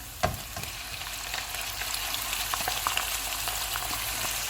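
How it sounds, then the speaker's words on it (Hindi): Steady, dense sizzling of minced meat frying in a karahi pan after ginger-garlic paste, with occasional crackles and a scrape of stirring near the start, no talking. "कीमे का कलर चेंज होने तक इसको पकाएंगे।"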